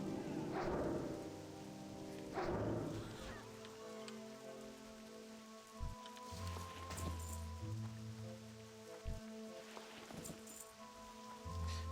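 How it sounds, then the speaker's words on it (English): Steady rain in the World of Warcraft video game falls as a continuous soft hiss, with game music tones and occasional sharp effect sounds layered over it. "It's too bad that it's raining, guys."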